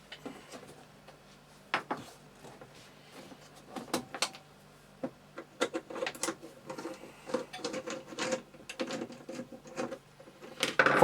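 Screws being removed from the back of a device, a series of close, faint clicks, scrapes and handling clatters at an irregular pace.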